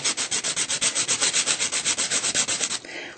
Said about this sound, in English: For no other reason am I filing it right now.